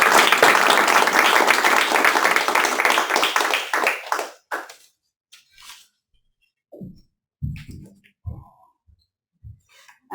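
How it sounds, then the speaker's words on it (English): Audience applause welcoming a lecturer at a university inaugural lecture: loud, dense clapping for about four seconds that fades out abruptly, followed by scattered soft knocks and room noises. "please join me for a round of applause"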